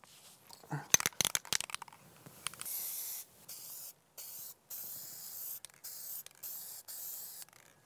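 Rust-Oleum dead flat matte spray paint hisses onto a duck decoy in several short bursts, each a steady close spray separated by brief pauses, after a few rattles and handling clicks.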